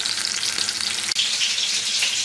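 Steady, loud sizzling of chops frying in a pan, a continuous crackling hiss with a brief dip midway, no voices.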